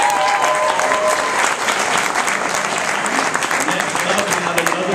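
A concert audience at a show claps and cheers loudly and steadily for a full stretch, dense applause filling the room with scattered whoops.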